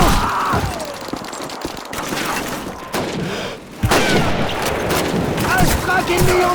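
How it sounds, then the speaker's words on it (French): Dense, continuous gunfire from Call of Duty 2, with an MG42 machine gun among the battle sounds, rattling loudly through the whole stretch alongside thuds and booms, while soldiers shout over it. "MG42 là-bas! Dans le bâtiment rouge à gauche!"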